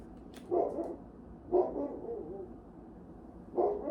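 A dog barks three times at roughly one-second intervals, single close woofs with quiet pauses between.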